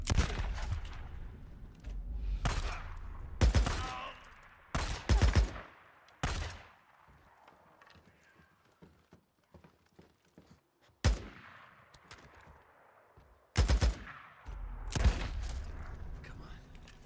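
Loud gunfire from a Days Gone battle comes in separated bursts with quieter gaps between them, mixed with fainter shuffling and movement.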